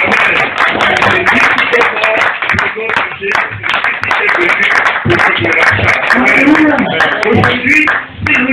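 A church congregation applauds and acclaims Jesus Christ during a spiritual seminar, a loud, dense wash of clapping and cheering voices that carries steadily throughout without pause.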